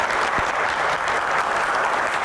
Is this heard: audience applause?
yes